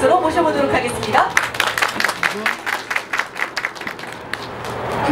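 Applause from an audience at a snowfall-preparedness drill ceremony for a regional national road office, a spread of hand claps that builds after a moment and continues steadily, with voices talking over it.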